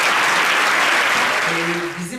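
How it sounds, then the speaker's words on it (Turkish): Theatre audience applause honouring Shakespeare after a play, a loud sustained wash of clapping that gradually thins toward the end, with a few voices and tonal sounds surfacing near the close. "William Shakespeare'e de bir alkış verelim"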